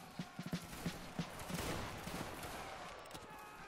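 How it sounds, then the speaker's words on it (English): Line infantry in a Roblox Waterloo battle event fire a musket volley: a ragged cluster of sharp shots in the first second and a half, then a fading rumble, fairly quiet and distant. "Good volley, guys."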